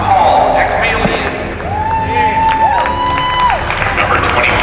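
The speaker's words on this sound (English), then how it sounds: "Congratulations and a nice round of applause for the Holy Name Star." An arena crowd at a hockey gold medal game gives applause and cheers for the silver-medalist Holy Name Stars, broad clapping and crowd noise with whistle-like tones and a voice over the public address.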